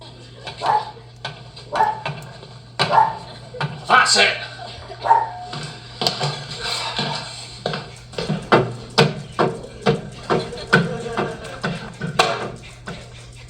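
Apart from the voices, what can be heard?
dogs barking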